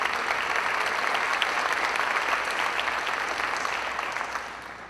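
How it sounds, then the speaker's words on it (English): An evening crowd at a Polk Academies Ford NGL designation event applauds, with sustained, dense clapping from many hands at an even level that slowly fades over the last second. "Round of applause, please."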